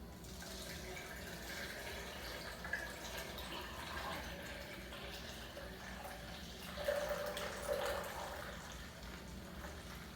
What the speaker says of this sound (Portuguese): eu irei colocar a água com corante em um recipiente